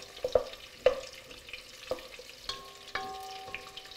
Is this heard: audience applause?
no